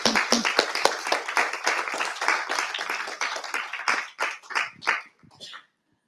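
Hands clap together from a small audience at an awareness talk on gynecological cancers, brisk and fairly close at first, then thinning into scattered individual claps that trail off into silence.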